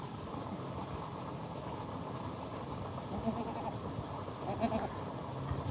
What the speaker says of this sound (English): You can watch a newborn baby goat born this morning on the farm on Route 66.